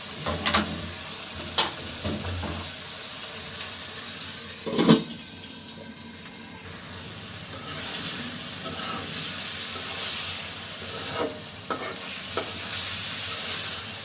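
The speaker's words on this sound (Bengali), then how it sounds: "ডিমটা কিন্তু খুব সুন্দরভাবে আলুর সঙ্গে কষানো হয়ে গেল।" Egg and potato curry sautéing in a pan, with a continuous close sizzle broken by sharp stirring clatters at irregular intervals.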